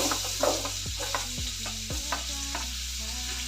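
Diced onions and capsicum stir-fry in a pan for white sauce pasta, a soft sizzle broken by several sharp clinks and scrapes of a utensil against the pan, close and fairly quiet.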